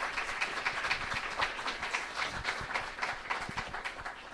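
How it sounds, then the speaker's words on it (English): Faint, distant audience clapping for the debaters at a religion debate, a steady patter of hands heard from afar without speech. "So let's clap for our debaters."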